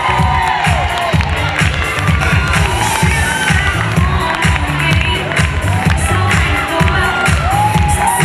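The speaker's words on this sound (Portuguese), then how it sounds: "Pode aplaudir, pode aplaudir, que a gente merece." Dense audience at a charity fashion and dance show cheering, whooping and clapping continuously, with children shouting in the mix, loud and sustained throughout.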